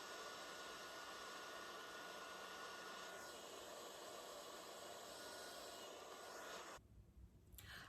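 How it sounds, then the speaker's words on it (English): A blow dryer running on its cold setting gives a steady, close whooshing roar that cuts off abruptly near the end, with no talking. "is your blow dryer on hot or cold? It's on cold"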